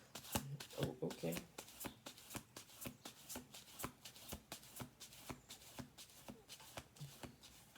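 Tarot cards are riffled and tapped in quick, crisp bursts, a steady run of snapping shuffles close up with a voice speaking briefly near the start.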